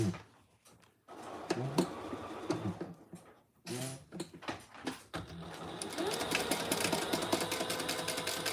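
A sewing machine stitches a second row of seam close to the first, a steady mechanical whir building to continuous running after some short starts and stops.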